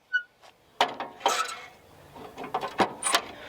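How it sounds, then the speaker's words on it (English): A Stihl BR800C backpack blower sits in an equipment rack holder on a lawn care trailer; a top handle is turned and the holder swings open, giving a series of close metallic clicks, clunks and rattles with quiet gaps between them. "You turn the handle on the top. This swings open and you can lift it out."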